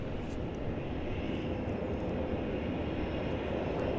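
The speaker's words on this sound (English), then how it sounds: "Another Cessna 208B Cargo Master" A Cessna 208B Cargo Master propeller aircraft at Dallas Fort Worth airport produces a continuous, moderately loud engine drone, even and unbroken for the whole stretch, with no talking.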